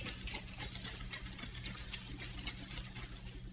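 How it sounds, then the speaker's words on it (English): Half and half and chocolate drink mix shaken inside a capped shaker for a Bellagio sipping chocolate base, a steady continuous rattling slosh of liquid that runs evenly throughout, fairly quiet and close. "close your cap and give it another nice shake"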